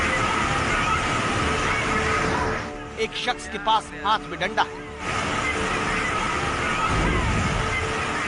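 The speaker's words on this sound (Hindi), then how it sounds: "पूरे वेग के साथ पानी बह रहा है।" Floodwater rushing with full force, a broad continuous roar of churning water, loud and near, briefly giving way to someone speaking before the torrent returns.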